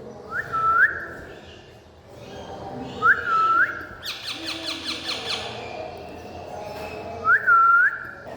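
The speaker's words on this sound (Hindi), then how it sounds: "मैं सीटी बजाऊँगा, ये बोलेगा" A man whistles short rising-falling calls to a pet parrot, which answers between them with a burst of squawky chatter; three whistles in all, close and clear.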